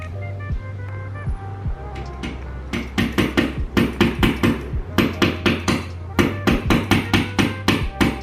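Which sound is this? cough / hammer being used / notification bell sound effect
hammer being used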